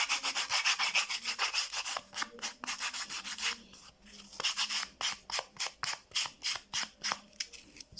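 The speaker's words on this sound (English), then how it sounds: "I'm also going to roughen this side as well and roughen all of these as well." Rapid rhythmic rubbing and scraping as sandal material is roughened by hand for contact cement, repeated short strokes close up, pausing briefly between bursts.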